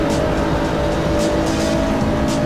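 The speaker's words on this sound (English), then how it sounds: "Here comes the Nissan GTR with the legs on the BMW." A Nissan GT-R GT3 race car in Assetto Corsa roars past a BMW at Mugello, its loud steady engine drone dominating at full throttle.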